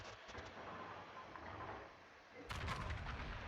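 Battleship gun volleys from a Vermont in the naval video game World of Warships, a rumbling barrage of deep booms under distant battle noise, with a heavier salvo near the end.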